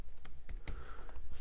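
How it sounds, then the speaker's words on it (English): Fast typing on a computer keyboard, close clicking keystrokes in a quick uneven run with no pauses, moderately loud and alone. "I'm typing it out a little bit longer than what some people would"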